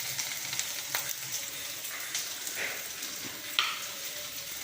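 Chutney ingredients sautéing in a pan, with a continuous oily sizzle and crackle up close and a few louder spatula strokes and pops scattered across it.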